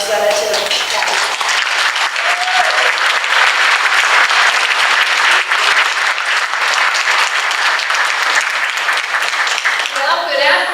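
Audience applause welcoming a congressional representative at a Suncoast Tiger Bay Club gathering: dense, loud clapping sustained for about ten seconds, with brief voices at the start and end.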